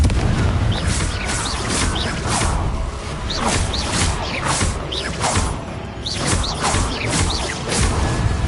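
Confringo, the explosive fire spell in the video game Hogwarts Legacy, goes off as a rapid volley of crackling blasts with whooshing and creaking debris, loud and continuous for the whole stretch.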